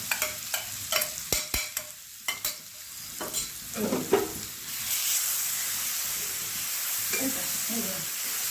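Rapid spoon scrapes and taps against a pan at first, then a steady sizzle of green chilies, cumin and garlic frying for a spinach dish, with brief faint background voice.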